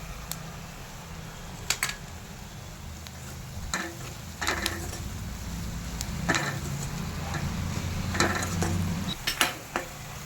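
Onions fry in a pan for gongura curry with a soft, steady sizzle, broken by scattered scrapes and clinks of a spoon stirring against the metal.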